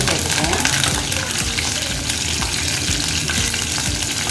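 Green chillies hit hot tempering oil already holding mustard seeds, urad dal and curry leaves, producing a loud, dense, continuous sizzle with crackling pops throughout.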